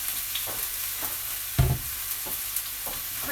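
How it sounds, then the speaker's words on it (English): Chopped onions sizzling in a pan for an Italian soffritto, a continuous close frying hiss with a few stirring knocks, one louder thump near the middle. "So I'm putting the onions in."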